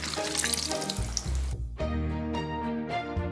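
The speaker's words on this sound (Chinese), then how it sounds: "梅姐上锅了，先炸油角，炸得这样的滑滑的" Oil horn pastries (you gok) deep-frying in hot oil in a home kitchen for Chinese New Year, a steady close sizzle with splashy, watery bursts and a brief dip in the noise partway through.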